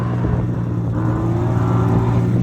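A car revs with a loud, steady low engine roar and whir at a winter car show meet in Midvale, Ohio, sounding close and continuous with no talking.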